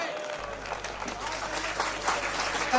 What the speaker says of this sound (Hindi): जोरदार तालियां आपके धन्यवाद की